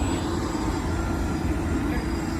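A studio tour tram rolls past a New York street backlot set, giving a loud, steady low rumble of vehicle and road noise throughout, with no clear voice on top.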